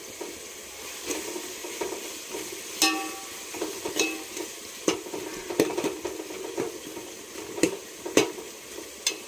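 Curry leaves sizzling in hot oil in a pan of Andhra fish curry with softened tomatoes, a steady crackle broken by sharp pops and spatters, close and moderately loud, with no voices.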